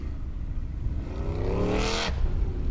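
A Formula Offroad buggy's engine revs hard on a hill climb in Iceland, driven by Skúli Kristjánsson in Simba, rising in pitch to a loud, strained peak near the end before cutting back, with no talk over it.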